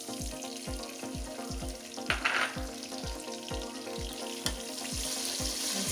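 Onion frying in bleached oil over low heat for ogbono soup, a steady close sizzle broken by regular rhythmic stirring scrapes about every half second, with a brief louder splash partway through.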